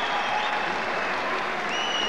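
A crowd applauds at the 1985 Badminton World Cup final between Li Lingwei and Ivanna Lie: dense, steady clapping that fills the hall from start to finish with no break.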